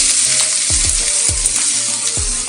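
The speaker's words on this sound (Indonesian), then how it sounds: "Oke, minyaknya cukup panas, kita akan tumis dulu." Garlic and shallots sauté in hot oil for a homestyle mie tek tek, giving a steady, close sizzle broken by a few deep knocks as the pan is stirred.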